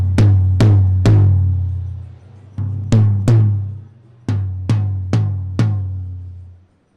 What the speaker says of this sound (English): Now what you're going to hear is how much bigger and longer the sound is here with the edge.